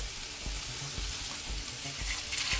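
Tofu frying in a pan over medium-low heat, a steady close sizzle with occasional soft knocks and shifting sounds from the pan.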